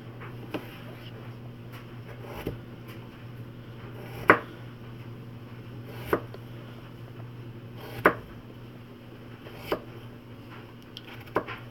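A knife chops potatoes into cubes on a cutting board, with sharp, evenly spaced thuds about every two seconds over a steady background hum.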